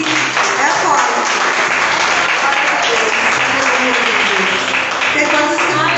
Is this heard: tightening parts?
no